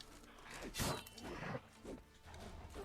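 Wolves growling in The Witcher 3: Wild Hunt, low guttural snarls and rough grunts in quick bursts over a dense, noisy game soundscape, fairly faint overall.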